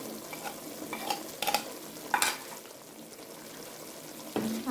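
Chinese fried rice with salt, crushed red chilli, black pepper and Chinese salt being stirred and fried in a pan, a steady sizzle broken by several scraping stirs of the spatula, no voices.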